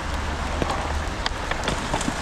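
Steady rain patters on a surface, a dense continuous hiss with scattered sharper drops hitting nearby.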